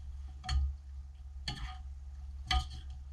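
Spoon stirring Lancaster County, Pennsylvania style goulash in a pot: three evenly spaced scraping strokes about a second apart over a low steady background hum, close and fairly quiet, no voices.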